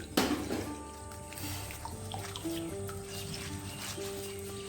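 Soaked tamarind is squeezed by hand in water for chutney, giving faint wet squelches and trickles over steady background tones.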